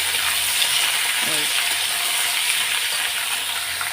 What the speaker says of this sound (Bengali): দিয়ে দিলাম আলুটাকে আগে কষিয়ে নেব, মানে ভেজে নেব।